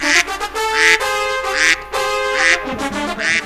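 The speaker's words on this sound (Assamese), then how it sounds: "বুটুকনহঁতে মাজতে বহি বাগৰি হাঁহটো ধৰিবলৈ চেষ্টা কৰিছে" Ducks quacking loudly and repeatedly during a village duck-catching contest, a series of close, harsh nasal calls in quick succession with no talk over them.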